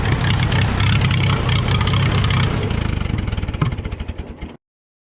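An old Allis-Chalmers WD tractor engine, restarted after decades and run with the choke on, chugs loudly and close at a rough idle, then its firing slows into separate heavy putts before it dies and goes silent.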